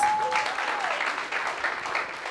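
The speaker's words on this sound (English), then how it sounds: "let's give her a warm round of applause" A warm round of applause at a corporate women's event greets a speaker, steady massed clapping from the audience that carries evenly throughout.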